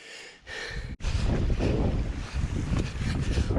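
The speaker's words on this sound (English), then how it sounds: "This wind, it's just a destroyer." Strong, constant wind roars and buffets the microphone on an exposed fell in the Northern Pennines during a cold winter trail run, a loud, unbroken rush that drops out briefly once before surging back.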